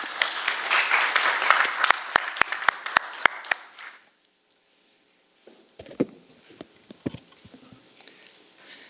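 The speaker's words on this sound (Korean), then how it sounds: "박수로 환영해 주시기 바랍니다" Audience applause welcoming a new information science faculty member to the podium at a seminar, a burst of sharp claps that fades after about four seconds into quiet room noise with a few scattered late claps.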